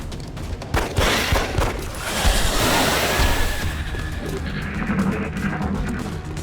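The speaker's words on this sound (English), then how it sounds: "I'm just gonna shoot you with a pistol" Gunfire and a heavy boom from XCOM Enemy Within, with a pistol shot amid loud, dense battle noise and rumbling that keeps going throughout, with no talk.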